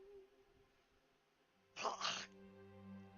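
A dog sneezes once, a short sharp burst close by, set against a quiet indoor room with a faint low hum.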